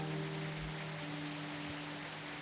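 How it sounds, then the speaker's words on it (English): Steady rain falls on a night scene in the video game Coffee Talk, a soft continuous hiss with a faint low tonal hum beneath it and no talking. "Oh, another rainy night."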